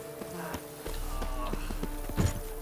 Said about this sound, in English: Horses fleeing without a rider.